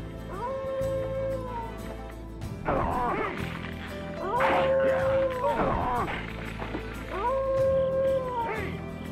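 A dog howls in the Tenchu: Stealth Assassins video game, with long wavering cries repeating three times over a droning game soundtrack, loud and near.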